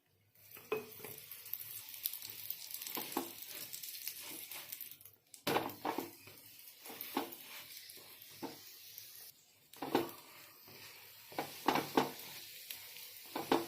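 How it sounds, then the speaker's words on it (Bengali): Sweet corn paratha fries in white oil on a pan, a quiet sizzle broken by bursts of scraping and flipping, with a few short pauses between; no voices. "আমি সাদা তেল দিয়ে ভেজেছি"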